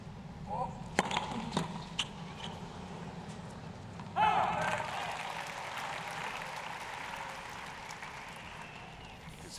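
Tennis racket strikes on the ball at the 2014 US Open quarterfinal between Roger Federer and Gael Monfils: a few sharp pops early, then a swell of crowd noise, with a voice over the stadium ambience.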